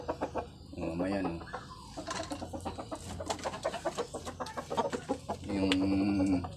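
Hens cluck and squawk nearby over a steady background of talking, with a couple of louder, drawn-out calls standing out.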